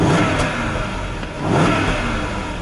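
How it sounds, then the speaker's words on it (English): A Range Rover Autobiography's 5.0-litre supercharged V8 is blipped twice, two quick revs rising out of a throaty idle, close and loud with no talk over it. "So it's a 5-litre supercharged V8. I'll just open the window and blip the accelerator for you to."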